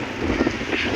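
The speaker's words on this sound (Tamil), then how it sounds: "ஐயோ காற்று செம்மையாட்டிக்குது." Strong wind buffets the microphone in a steady broadband roar throughout a rainy evening walk outdoors, with a low rumbling gust swell near the middle and no voices.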